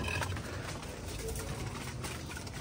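Pigeons coo softly in a breeder loft setup, low murmuring calls under a steady background hiss, no speech.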